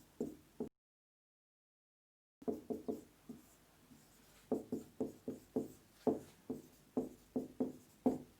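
A teacher writes on a board during a physics class, chalk or marker strokes tapping out in short rhythmic bursts, faint and close, after a brief gap of silence, with no talk.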